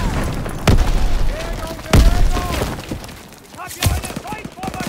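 A hand grenade bursting amid rifle fire in a World War II shooter game, Call of Duty WWII: several loud, sharp booms about a second apart over a steady din of battle, with voices shouting through it.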